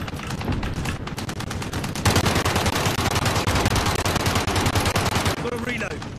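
Dense, rapid automatic gunfire from a Call of Duty Modern Warfare match, sustained bursts poured at a tank with fast rhythmic shots, loud and close throughout, with a player's voice talking over it.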